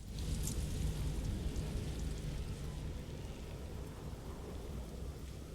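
A thunderstorm with rain in the video game No Man's Sky: steady, heavy rain hiss over a low rumbling thunder roll, with a brief sharper crackle near the start and no voices.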